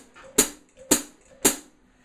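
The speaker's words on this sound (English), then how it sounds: "And it involves stomping on the pedal." Three stomped hi-hat pedal strikes, each a sharp chick with a brief bright sizzle, spaced about half a second apart, close and alone with no voices.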